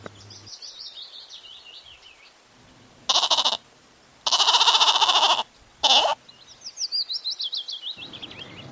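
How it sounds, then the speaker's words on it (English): A goat bleats in three loud, separate calls of differing length, clear and close, with birds chirping faintly before and after. "G for goat."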